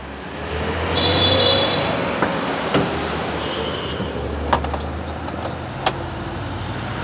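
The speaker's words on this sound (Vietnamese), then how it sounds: "Cái này mở bằng chìa khóa nha." Key opening the rear trunk of a 2011 Chevrolet Spark, with keys jangling close by over a low idle-like rumble, followed by a few sharp latch clicks.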